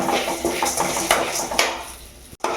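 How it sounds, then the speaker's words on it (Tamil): Urad dal and coriander seeds dry-roasting in a pan, with a steady run of scraping and clinking as a utensil stirs and knocks against the metal, close and fairly loud, with no voices. "உளுந்து, தனியா இதெல்லாம் ஃப்ரை பண்ணணும்."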